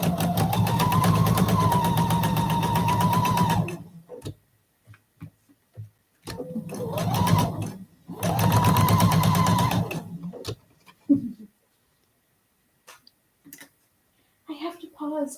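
A sewing machine stitches the last corner of a quilt block in several loud, close runs of steady mechanical whirring, separated by quiet gaps with light handling clicks and brief talk.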